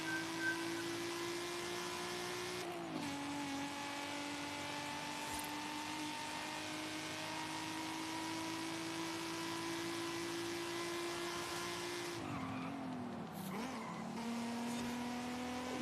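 A Nissan GT-R R34 engine in the racing game Forza Horizon 5 holds a loud, steady high-revving drone, dipping briefly at two gear changes, one early and one near the end, with a short squealing skid near the end.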